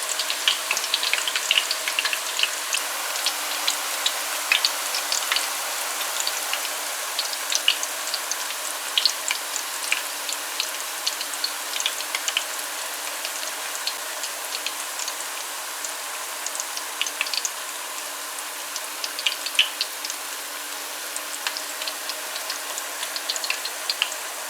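Breadfruit chips frying in a pot of hot oil produce a continuous, close crackling sizzle with dense fine pops and spatters, steady in level for the whole stretch with no voices.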